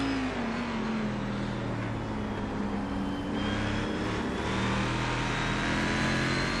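Race cars at Watkins Glen in a 2013 race: a steady, loud engine drone heard from inside the car, with the pitch rising slowly as it accelerates and other engines faintly nearby.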